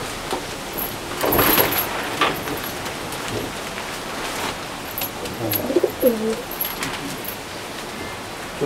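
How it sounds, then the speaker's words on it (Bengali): Pigeons in a home loft in Falta, South 24 Parganas, giving a few soft low coos over steady background noise, with some shuffling and faint sounds of people nearby. "এটা এটা ছেলে পায়রা আছে"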